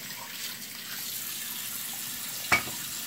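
Lotus root being washed under a running kitchen tap, a steady soft hiss of flowing water throughout with one brief sharp clatter near the end, close and moderately quiet.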